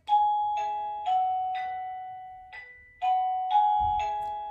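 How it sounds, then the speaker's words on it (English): A wireless electronic doorbell receiver in a child's room rings a bright multi-note chime, two tuneful phrases played close and clear in a quiet room. "instead of yelling for them when it's dinner time or whatever it is, I just push their doorbell"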